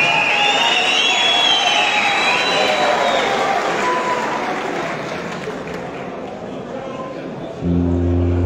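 Crowd applause at a youth gathering in İnegöl, welcoming a folk music troupe to the stage, a broad continuous clapping roar that slowly fades before a low tone enters near the end.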